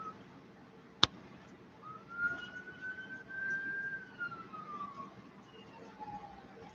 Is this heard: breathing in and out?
no